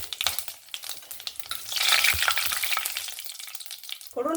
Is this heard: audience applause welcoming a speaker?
no